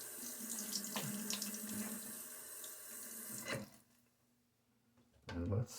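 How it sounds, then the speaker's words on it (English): A bathroom tap runs steadily with splashing as water is scooped onto a face during a wet shave, then a quiet pause before a short, close burst of splashing at the end. "A little splash of water on my face."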